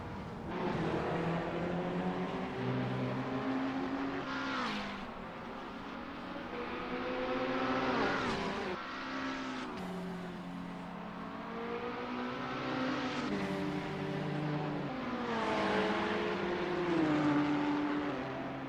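Several McLaren 650 GT3 race car engines lapping Brands Hatch in a racing video game, revving up and down through gears in repeated whining sweeps, steady and moderately loud throughout.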